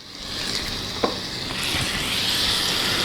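Garlic and chili flakes sizzling in hot oil for a Turkish tarhana-style soup, a steady close hiss of frying that swells slightly toward the end, with one brief clink of a utensil partway through.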